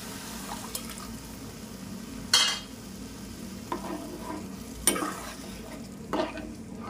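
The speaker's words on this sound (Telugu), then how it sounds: "వచ్చిన తర్వాత కొన్ని వాటర్ వేసుకుందాం." Water is added to sizzling palak gravy in a pan for palak paneer, with a few sharp splashes and stirring clinks over a steady frying hiss.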